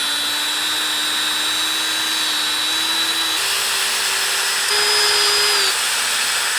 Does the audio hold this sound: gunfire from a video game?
no